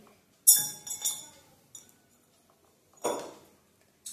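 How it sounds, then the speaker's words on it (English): A few light clinks and taps of a glass of plain water being handled and set down on a hard surface, quiet and close, with pauses between them. "put aside this glass of plain water"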